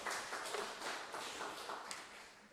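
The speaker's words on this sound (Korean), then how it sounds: "박수 좀 줍시다. 박수." Church congregation applause during a Sunday morning service, a soft and fairly distant patter of hand claps lasting a couple of seconds.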